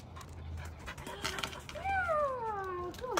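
A dog whimpers close by, soft breathy sounds followed by a long rising and falling whine near the end, quiet and alone.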